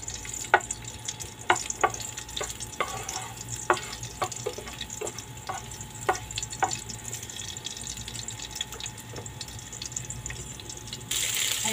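Hot cooking oil frying for adobong sitaw, with a steady low sizzle and sharp clicks of a utensil scraping and stirring the pan, close up with no talking.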